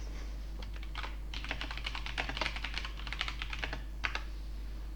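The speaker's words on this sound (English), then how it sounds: "I'll type it for you." Rapid typing on a computer keyboard, close and clear, with quick irregular bursts of key clicks and short pauses over a faint steady hum.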